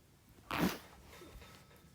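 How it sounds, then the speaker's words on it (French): A single short sneeze bursts out at close range about midway through, loud against a quiet background, then fades into faint low room noise with no talking. "j'ai un peu éternué"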